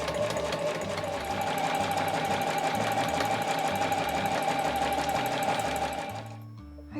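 Sewing machine stitching the side seam of a handmade granny bag, a fast, steady mechanical whirring with rhythmic needle clatter that runs continuously for about six seconds, then slows and stops.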